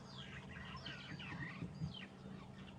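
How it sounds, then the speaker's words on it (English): Francolin and starling alarm calls ring out in the African bush at sunset, several sharp chattering and whistled notes scattered over a low rumbling background, moderately distant. "now there's some francolin that are alarming, and I've heard some starlings alarming"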